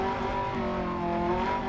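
A rally car's engine drones loud and steady with tires squealing under it in the Dirt Rally 2.0 video game, a continuous close roar with faint high scrapes and no voice on top.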